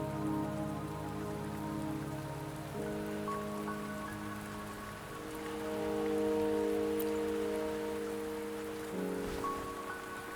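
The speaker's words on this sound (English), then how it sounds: "Don't worry, the rain won't last much longer." Steady rain from the Wuthering Waves video game, a dense constant patter and hiss beneath a soft sustained musical drone, evenly loud throughout with no speech.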